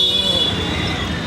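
A sustained car horn blares over steady street traffic noise in Sarnath, India, holding one bright tone for its whole short length.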